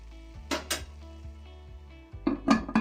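A metal lid clanks onto a pot of simmering vegetable kurma, with a couple of sharp metallic clinks followed by a short cluster of rattling taps.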